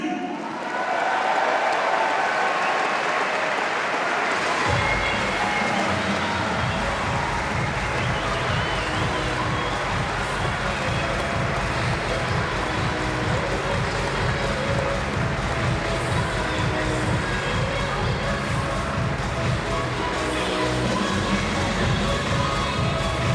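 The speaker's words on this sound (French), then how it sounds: "je voudrais qu'il soit là pour qu'on l'applaudisse très très fort" Sustained applause from a large tennis crowd at a retirement ceremony, steady and loud throughout, with a dense wash of clapping and some cheering mixed in.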